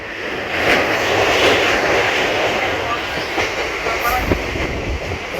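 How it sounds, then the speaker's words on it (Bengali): A train rumbles steadily and loudly across a canal bridge, with faint clickety-clack of wheels on the rails throughout. "আর এই কাঁথি খাল পার করছে এখন ট্রেন"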